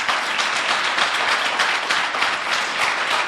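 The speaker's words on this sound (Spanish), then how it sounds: "Dele un fuerte aplauso al Señor." A church congregation breaks into loud, sustained applause, dense clapping from many hands filling the room steadily without pause.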